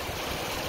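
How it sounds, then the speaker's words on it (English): Hot water gushing from a pipe into a soaking pool, a dense, continuous rushing roar, close and loud, with no pauses. "So right now there's hot water coming in."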